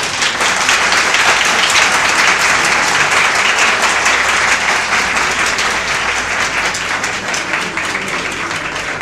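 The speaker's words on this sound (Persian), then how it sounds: "باز هم تشویقشون بفرمایید" A loud, dense round of audience applause for a satirical poet, with continuous clapping holding steady across the whole stretch and easing only slightly toward the end.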